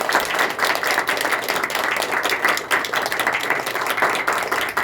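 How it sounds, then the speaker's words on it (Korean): Congregation at a church service applauding warmly to welcome the pastor, a dense, steady wash of many hands clapping close by for the whole stretch, with no talk over it. "뜨거운 박수로 환영하도록 하겠습니다"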